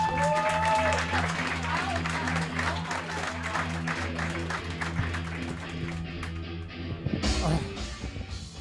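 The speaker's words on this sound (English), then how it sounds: "clap it up as loud as you can for Noah Gardenswartz" A comedy club audience at a roast battle tournament applauds a comedian, dense clapping and cheering that starts loud and thins out toward the end, with a host's voice mixed in.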